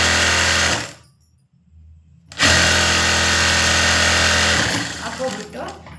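A sewing machine stitches a straight sleeve seam with a loud, fast, even mechanical whir. It stops for about a second and a half, then runs again steadily before slowing near the end.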